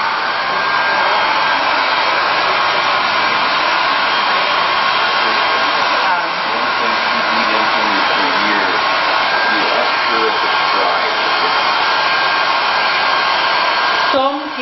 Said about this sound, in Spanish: ella quiere poder ver la piel para estar donde el secador está soplando